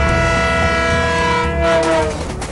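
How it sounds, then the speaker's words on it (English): A train near a railway station approaches, its horn sounding a loud, sustained tonal blast over a low rumble of wheels and rail noise, alone with no voices. "The sound of an approaching train"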